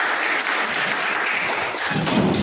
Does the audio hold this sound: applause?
yes